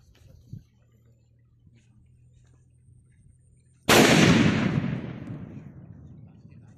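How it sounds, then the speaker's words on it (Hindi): Size 5 Top Tiger bomb firecracker exploding outdoors after a quiet lead-in with faint low hum and a small click, a single loud, close blast followed by a long rumbling decay that fades over about three seconds. "और ये है 5 नंबर साइज का टॉप टाइगर बम।"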